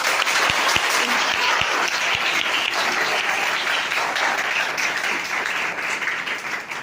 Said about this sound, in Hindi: मैं ये चाहता हूँ कि आप पाक कलाम के लिए इससे भी ज्यादा जोर से तालियां बजाएं।